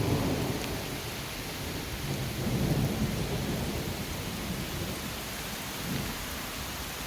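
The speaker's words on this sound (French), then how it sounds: "on se retrouve après un petit orage" Thunderstorm in the Vosges mountains near Lac Blanc, with steady rain and low rolling thunder rumbling softly through much of the stretch, no voices.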